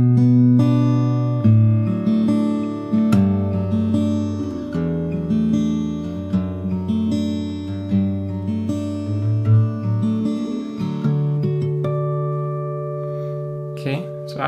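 A fingerstyle acoustic guitar plays the short, simple ending of a song, with plucked melody notes over sustained low strings, slowing and settling on a ringing final chord. It is close and unaccompanied, with no voice.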